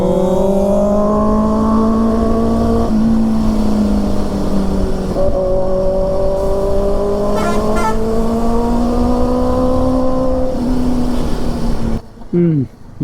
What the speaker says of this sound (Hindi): बाइक की साउंड में ये भूल गए बात क्या कर रहे थे